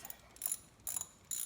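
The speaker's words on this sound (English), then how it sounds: "we'll go ahead and work these out as best as we can with the ratchet and the socket" A ratchet and socket working valve cover bolts loose on a Kia Rio, with three short bursts of quiet clicking from the pawl, close up and faint, with no talk.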